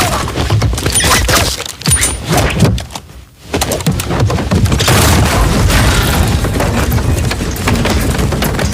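A bomb blast in an action film, a loud booming roar with dense, chaotic rumble and debris noise that fills the scene, briefly dropping away before surging back for several seconds.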